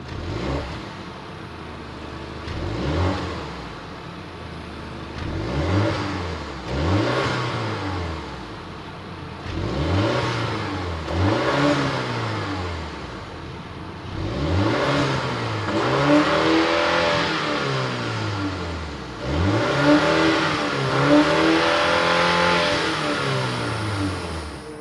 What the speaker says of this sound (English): that was the sound of the 2-liter turbocharged 4-cylinder engine